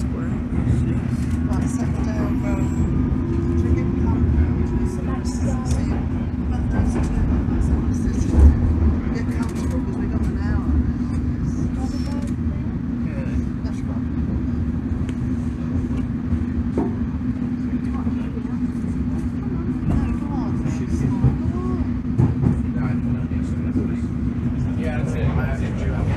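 London Underground train pulling away from St. Pancras toward Euston Square, a steady low rumble and hum of the carriage in motion with faint clatter, constant and moderately loud.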